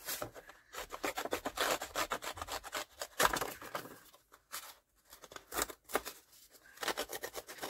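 Rapid, rhythmic rasping scrapes, a scissors edge dragged back and forth over a paper journal cover in quick bursts with brief pauses between strokes, close up.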